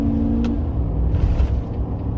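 Cabin rumble from a 2013 GMC Sierra pickup driving on an economy tune, a steady low engine and road drone with a slight swell, heard from inside with no talking.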